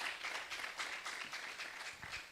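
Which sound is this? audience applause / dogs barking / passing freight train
audience applause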